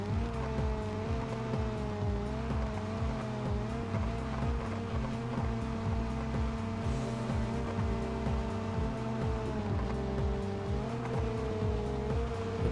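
Ibishu Covet, a front-wheel-drive car in the BeamNG.drive video game, driving fast with a steady, loud engine drone whose pitch wavers slightly and rises and falls over about thirteen seconds, with no talking over it.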